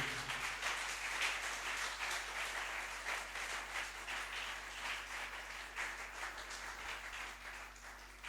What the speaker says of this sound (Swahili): Là, vous pouvez acclamer.